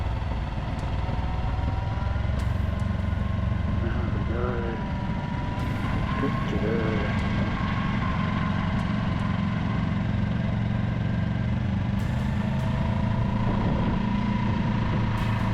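A Yamaha R3 motorcycle rolls slowly downhill at gentle revs, its engine running low and steady with a continuous rumble and faint shifting tones throughout.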